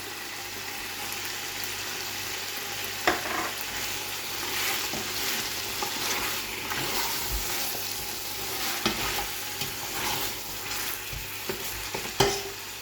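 Steady sizzling and frying of garlic and ginger paste in a hot pan for an okra mutton stew, with occasional sharp clinks and scrapes of a utensil stirring, close and continuous.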